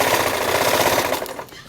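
Sewing machine running steadily as it stitches across a pleated formal skirt, a loud close continuous mechanical chatter that fades slightly near the end.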